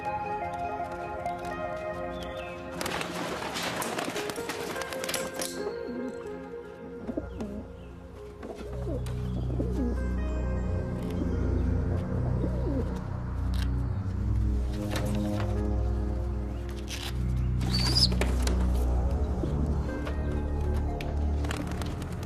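Homing pigeons cooing in a pigeon loft, soft repeated coos with a few bursts of wing flapping, fairly close, with no talk over them.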